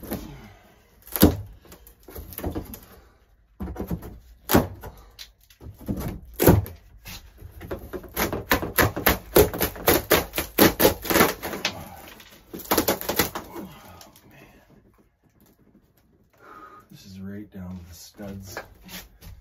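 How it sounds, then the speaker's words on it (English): A ceiling is ripped down while a room is gutted: loud cracking, tearing and snapping bursts come close, then a rapid run of splintering crackles, with occasional voices nearby. "Let's start ripping down some of the ceiling."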